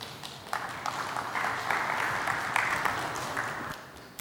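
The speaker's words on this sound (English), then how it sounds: "Mr. Mohammad Alyousef, give a big round of applause." Audience applause for a conference speaker on regional sales, steady broadband clapping that rises in density and holds evenly for about four seconds, then tapers at the end.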